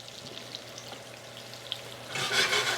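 Thick black grouper cuts sear in hot oil, a faint crackling sizzle that swells into a louder, brighter spitting burst near the end.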